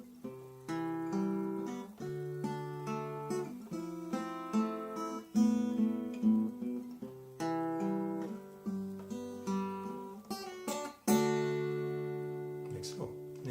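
A fingerpicked acoustic-style guitar plays a passage from a song, with plucked notes and arpeggiated chords falling in a steady, gentle rhythm, each note ringing briefly before the next, played quietly and alone.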